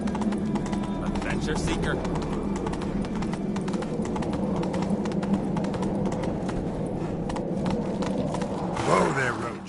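Horse hooves clip-clop steadily at a walk in The Witcher 3: Wild Hunt, a continuous rhythmic stepping under game ambience, with a voice speaking over the hoofbeats throughout.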